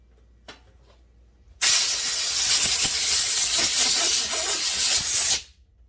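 Brake cleaner spray and a compressed-air hose blasting grime from a Husqvarna 51/55 chainsaw carburetor: a loud, steady hiss running for about four seconds after faint clicks, then cutting off abruptly.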